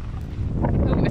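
Outdoor wind buffeting the microphone on a city street in Frankfurt, a steady low rumble that grows stronger and gustier toward the end, with a few faint background sounds mixed in.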